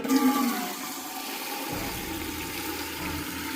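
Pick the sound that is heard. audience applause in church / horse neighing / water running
water running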